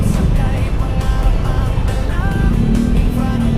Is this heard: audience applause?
no